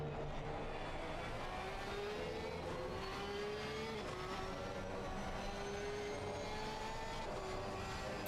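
Porsche 911 race car engine in Assetto Corsa Competizione, heard on board at Misano, a steady high-pitched engine whine with rising and falling tones as it shifts through gears, continuous and loud for the whole stretch.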